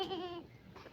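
A goat heavily pregnant and close to giving birth lets out a single bleat with a wavering, harmonic-rich tone that fades after about half a second, leaving quiet farmyard ambience.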